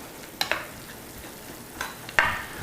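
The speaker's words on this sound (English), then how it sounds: "A couple ounces of red wine to deglaze the bottom of the pan." Red wine hitting a hot pan to deglaze the bottom while braising lamb, bursts of sizzle with a few sharp scrapes from a utensil, close and without talk.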